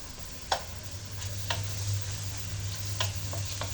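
Onions softening in a pan give a low, even sizzle under a steady hum, punctuated by a few sharp taps and scrapes of a utensil stirring.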